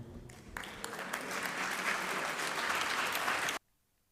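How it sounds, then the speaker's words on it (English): A hall audience applauds two organization representatives signing MOUs at a peace awards ceremony; steady, dense clapping builds over about three seconds, then stops abruptly into near silence. "we can applaud the two organization representatives signing these MOUs"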